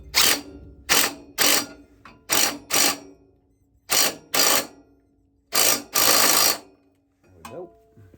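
Impact wrench working a bolt loose on a 1989 John Deere 316 garden tractor, firing in repeated short rattling bursts with brief pauses between, close and loud, with a faint voice near the end.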